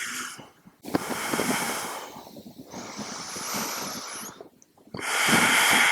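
Breathing during a standing balance pose in a strong vinyasa yoga flow: several long, airy inhales and exhales follow one another close up, with short quiet gaps between them.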